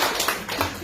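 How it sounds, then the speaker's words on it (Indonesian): A church congregation claps their hands in praise, a thick continuous patter of many hands at moderate loudness for a brief moment, with no talk over it. "Kasih tepuk tangan buat Tuhan."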